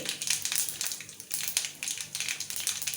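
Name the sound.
mustard seeds spluttering in hot oil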